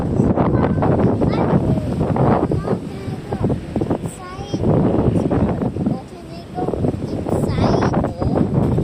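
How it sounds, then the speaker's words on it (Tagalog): Hard wind roars and buffets the microphone at a Tagaytay residence. The gusts rise and fall continuously under people talking. "it's so windy in here"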